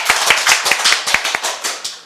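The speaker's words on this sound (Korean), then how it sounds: "우리 하나님께 감사의 박수 올리겠습니다" A church congregation at a New Year thanksgiving service claps in thanks, giving a loose burst of hand claps at close range that stays uneven and quickly thins out.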